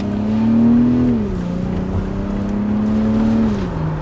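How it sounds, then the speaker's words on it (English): A BMW X3 fitted with a Toyota Supra engine accelerating, a loud, close tonal engine note that rises, drops at a gear shift, climbs again and shifts once more. "God, that engine sounds so good."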